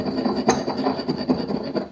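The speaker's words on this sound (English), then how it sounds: "So I'm just going to grind that" Fresh cardamom pods being ground by hand for a gluten-free quince pie, a steady close gritty rubbing and crunching with rhythmic strokes throughout, no talking.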